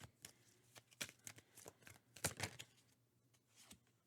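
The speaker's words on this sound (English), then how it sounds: "I'm gonna shuffle a couple more times" Tarot cards being shuffled by hand in a quiet room, a run of soft riffling flutters and taps in irregular bursts, close and fairly faint.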